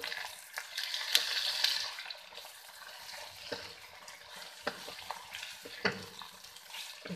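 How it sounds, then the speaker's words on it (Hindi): Chicken frying in a pan with ginger and garlic, a quiet hiss of oil broken by sharp intermittent clacks of a stirring utensil against the pan, close and fairly faint. "अदरक और लहसुन को थोड़ा सा फ्राई करने के बाद अब हम इसमें चिकन शामिल कर देंगे"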